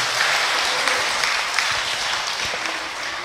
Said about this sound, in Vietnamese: bây giờ tất cả hãy cho một tràng vỗ tay thật lớn